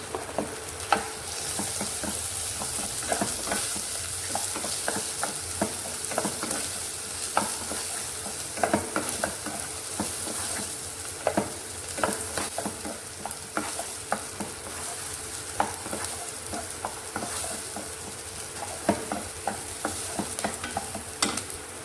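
Chopped onion, green chili and ginger frying in a pan for rava upma, a steady close sizzle with frequent scraping stirs of a spoon throughout, no talking.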